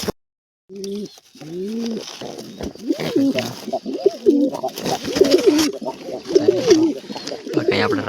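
Pigeons in a coop with eggs coo repeatedly and closely, a steady run of throaty rolling calls following a short silence at the start.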